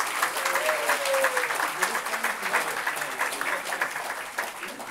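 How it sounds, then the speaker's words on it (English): An audience applauds at a memorial lecture, a dense, continuous round of clapping that swells and slowly thins, with faint voices underneath. "Please join me with a round of applause"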